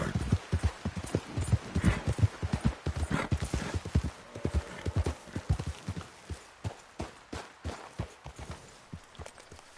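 Horse hooves clip-clop steadily in Red Dead Redemption 2, a close, even walking rhythm of sharp knocks that runs the whole time and gets sparser and more spaced toward the end.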